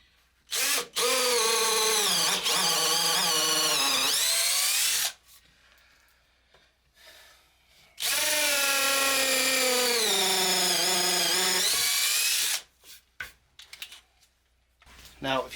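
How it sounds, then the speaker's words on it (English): A power drill whines loudly drilling holes through wood for a dovetail and tenon shoulder jig, in two long bursts of about four seconds each, separated by quiet pauses with faint handling sounds. "and drill our holes through."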